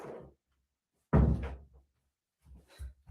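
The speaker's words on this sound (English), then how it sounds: "I'll try shutting the door." A door is pushed shut with one solid thump and brief rattle, close by, followed by faint handling noises in an otherwise quiet room.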